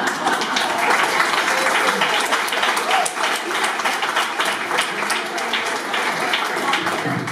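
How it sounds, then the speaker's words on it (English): An audience clapping steadily and loudly throughout, a dense even patter of many hands at a talk on grief, with a faint voice underneath. "You wouldn't be clapping if we had lost."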